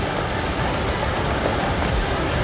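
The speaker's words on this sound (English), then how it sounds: "You can hear it a long ways away" A Hawaiian waterfall in Haleakala National Park plunging 400 feet sends up a steady, loud, broadband roar, a continuous rushing wash with no pauses or voices.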